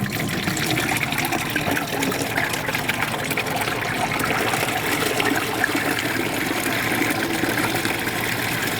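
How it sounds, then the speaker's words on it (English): Water drains from the handles of an SL 500 gravity model machine into a hand-held bucket, a steady close trickling and gushing that runs without pause and without talk. "Now I'm going to slowly open the handles and start draining each side."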